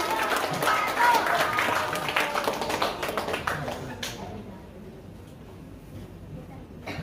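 Children applauding after an Indonesian storytelling session, a scattered burst of small-group clapping mixed with chatter that fades after a few seconds into quieter room noise and talk.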